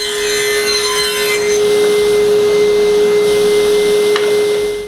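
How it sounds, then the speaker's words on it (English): A table saw blade tilted to 20 degrees cuts wood pieces for a wine rack, a loud steady whine with a constant pitched tone and grinding texture throughout. "I tilt my blade to 20 degrees and cut both sides of every piece"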